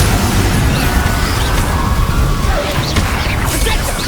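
An Incendio fire spell blast in a Harry Potter video game erupts as a loud, dense roaring burst that stays heavy and rumbling throughout, with crackling layered on top and a voice faintly present beneath.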